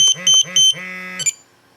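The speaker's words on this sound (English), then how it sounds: "This is a nice little beeping / vibration alert." A series of sharp electronic alert beeps from a Spektrum DX8 radio transmitter warning of high throttle, three quick pulses followed by a longer tone, then a short final chirp, loud and close.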